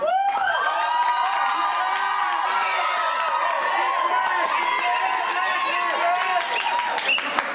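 Loud crowd at a live improv comedy show cheering, whooping and applauding in a sustained burst, with shouting voices layered over steady clapping throughout.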